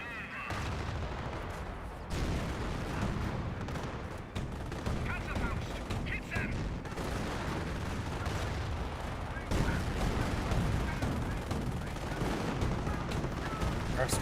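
Flak 88 anti-tank gunfire in the WWII strategy game Company of Heroes, heavy booming blasts and battle rumble mixed into dense continuous game noise while a commentator talks throughout.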